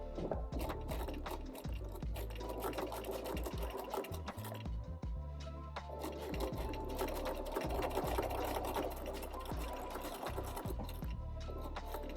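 Sewing machine stitching a folded fabric spaghetti strap, a continuous fast mechanical whirr with rapid needle clatter, steady and close, with a brief pause near the middle before it runs on.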